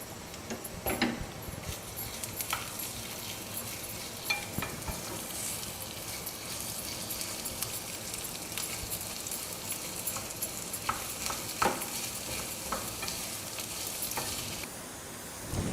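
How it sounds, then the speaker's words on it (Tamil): Large onions frying in a pan for veg pulao, a faint, steady sizzle with scattered scraping clicks of stirring throughout. "பெரிய வெங்காயத்தை போட்டு நல்லா ஒரு மாதிரி ப்ரௌன் கலரில் இருக்கிற மாதிரி வறுக்கணும் நம்ம"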